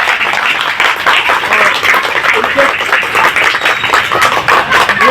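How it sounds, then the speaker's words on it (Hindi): Students clap together at a school street-school event celebrating Tulsi Pujan Day and Christmas, a dense, steady wash of applause holding loud and close for the whole stretch, with some voices mixed in. "एक बार मैडम के लिए तालियां बजाइए, एक बार आप स्कूल के लिए तालियां बजाइए।"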